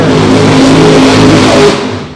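The Illinois Thunder nitro funny car roars down the drag strip at a Funny Car Chaos event, a very loud, sustained engine blast that tails off at the end.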